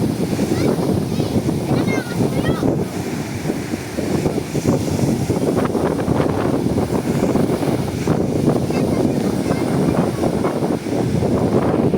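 Strong, steady habagat monsoon wind roars across the microphone at sea with the rumble of waves and boat beneath, loud and unbroken throughout.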